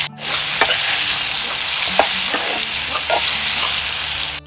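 Smoked pork pieces sizzle loudly in a hot pan while being stir-fried, a steady close frying hiss broken by several scraping stirs of the spatula, with no voices.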